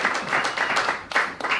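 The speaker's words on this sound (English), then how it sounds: "let's applaud Esme." Audience applause in a live comedy dating show, a steady burst of clapping from a crowd lasting under two seconds with no speech over it.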